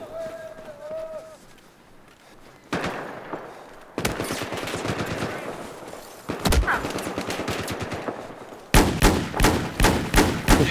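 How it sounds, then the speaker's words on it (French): Automatic weapon bursts and rapid gunshots crackle from several directions in a Battlefield video game firefight, growing louder and denser toward the end, with a brief tone and some talk early on. "de tous les côtés, on me tire dessus"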